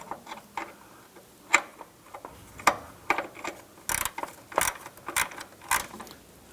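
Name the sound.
ratchet with shallow 8mm socket tightening bolt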